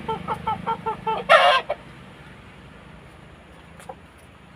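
Hens newly put into a chicken coop, clucking in a rapid rhythmic series, then a loud, brief squawking burst, followed by near quiet with one faint cluck.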